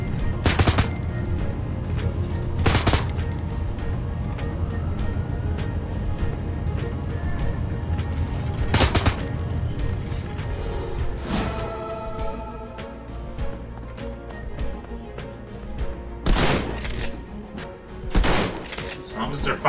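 Gunfire in Shadowrun: Hong Kong, a turn-based firefight with several enemies, comes as sharp, loud shots in separate bursts and volleys across the clip over a steady game soundtrack.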